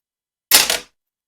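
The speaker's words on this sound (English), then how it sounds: "so just spray your pan down" Cooking oil spray hisses onto a pan in one short, close burst of about a third of a second, with silence before and after.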